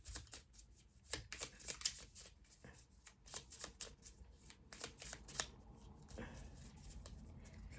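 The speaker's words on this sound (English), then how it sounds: "These are my little easy to shuffle cards" A deck of easy-to-shuffle cards is riffled and shuffled by hand up close, giving quick bursts of crisp flapping clicks in an irregular rhythm, quiet and with no voices.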